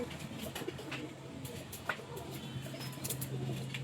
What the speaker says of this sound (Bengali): দুটোই বিডার পায়রা।